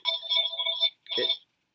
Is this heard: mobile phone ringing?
yes